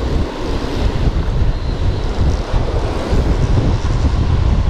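Ocean waves break and wash along the shore in a continuous loud roar, thick with wind buffeting the microphone and carrying no speech.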